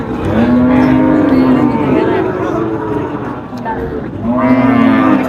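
Cattle mooing at a crowded village livestock market in Naogaon, Bangladesh, with two long, loud, close moos bracketing a stretch of market noise and voices in between.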